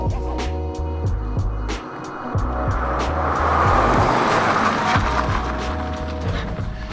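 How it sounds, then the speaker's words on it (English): A Mazda Miata pulls a hard stop during a brake test: steady road and engine roar swells, then eases, with a faint tire hiss underneath and no talking. "So let's see what happens in the brake test."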